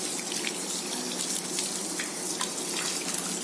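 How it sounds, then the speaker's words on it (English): Tap water running steadily into a sink while hands are washed, a continuous broad gush of splashing water with small drips, close and even throughout with no talking. "we'll wash our hands with water properly"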